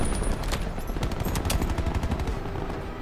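Sustained automatic gunfire in Black Ops 4 rattles in rapid, dense bursts with sharp cracks layered throughout, loud and continuous with no break.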